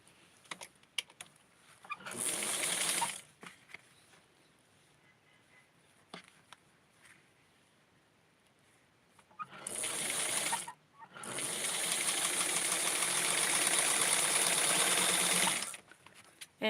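A sewing machine stitches fabric in several bursts, one short and two longer, loud and close, with quiet handling clicks between runs.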